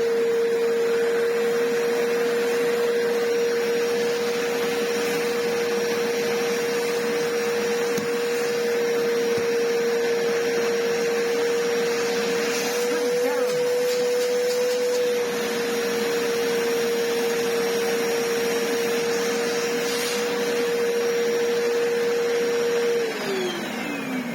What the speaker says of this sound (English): Suction coming from the hose.